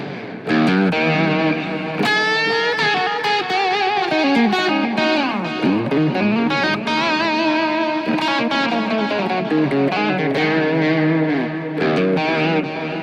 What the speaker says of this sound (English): Then you have delay, echo.